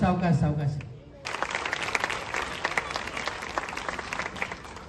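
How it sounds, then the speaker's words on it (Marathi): Audience applause breaks out at a village get-together, a dense, steady wash of many hands clapping that fills most of the clip after a brief stretch of voice and music at the start. "जोरदार टाळ्या."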